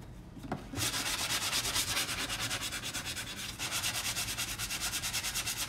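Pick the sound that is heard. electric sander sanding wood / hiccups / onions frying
electric sander sanding wood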